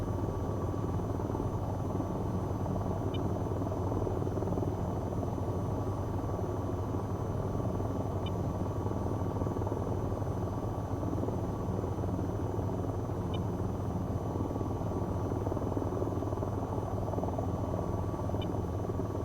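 An AH-94 attack helicopter in the flight game VTOL VR drones steadily with a constant rotor and engine hum, loud and close throughout with no talk over it.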